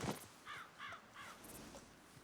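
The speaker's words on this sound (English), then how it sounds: "I hear crows" Crows caw in a Red Dead Redemption 2 game world, three clear harsh calls in an even rhythm, fairly close and alone over a quiet background.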